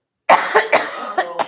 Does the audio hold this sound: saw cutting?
no